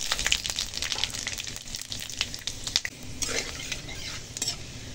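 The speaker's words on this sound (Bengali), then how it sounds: "দেখো ফোড়নটা ভাজা হয়ে গেছে।" Panch phoron, bay leaves and dried red chillies tempering in hot oil, a close crackling sizzle with sharp pops and metal spoon scrapes against the pan, no voices.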